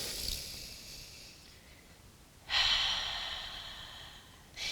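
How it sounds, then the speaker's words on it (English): Deep yoga inhale and exhale, heard alone with no talking: a soft airy breath that fades into quiet, then a stronger, louder breath swells and trails off, with another beginning at the end. "Take a deep breath in, breathing through the back of the heart"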